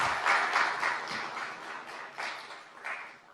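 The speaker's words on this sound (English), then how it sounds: "Can we also have a round of applause for the Center for Middle East and Islamic Studies team members" Steady applause from a lecture audience honoring the Center for Middle East and Islamic Studies team members, a dense wash of clapping that swells and eases over a few seconds without any talk.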